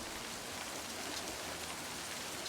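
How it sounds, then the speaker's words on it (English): Steady rain pours across the whole stretch in the video game Livber: Smoke & Mirrors, a dense, even hiss of drops on surfaces with no voices over it. "I'm actually gonna put the rain sounds just a tiny bit lower"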